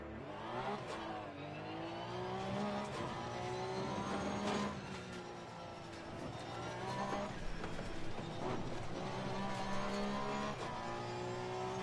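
GT race car in Assetto Corsa Competizione heading out on track, engine revving up through the gears in repeated climbing sweeps with brief drops at each shift, loud and close from the cockpit.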